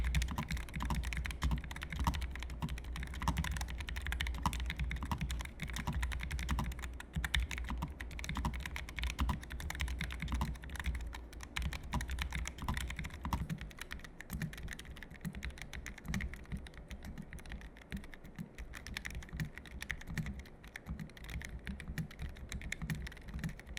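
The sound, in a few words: typing sound test of mechanical keyboards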